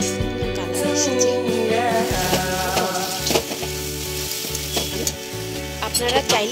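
Drumstick vegetable sizzles as it fries in a pan with a little sugar, with steady frying crackle and intermittent stirring scrapes over a sustained background tone throughout.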